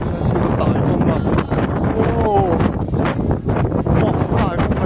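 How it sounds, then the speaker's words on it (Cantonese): Strong gusts buffet the microphone with a loud, rough roar at the Arrowtown bungy viewpoint near Queenstown, New Zealand, while a person's excited voice briefly cuts through the wind. "超級大風啊"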